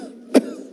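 A voice imitates a single short, dry, unproductive cough, one sharp burst standing out alone from a quiet background.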